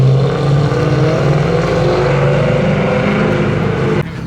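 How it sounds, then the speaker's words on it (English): Loud, steady engine roar from BMW M cars at a pop-up car meet, a continuous throaty drone close by that drops off abruptly near the end. "Bro, these cars sound so freaking good."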